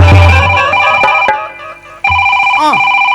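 A mobile phone rings loudly and close by, playing a bright melodic ringtone with repeating tonal notes that dip briefly and then resume.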